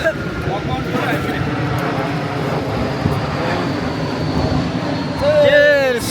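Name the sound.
airplane flying overhead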